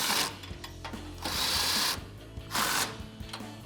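An impact wrench with a 17 mm socket drives bumper bolts home on a 2014-2021 Toyota Tundra with a RedRock TCX HD front bumper, in three loud, close, rattling bursts separated by a quieter motor hum, with no talking.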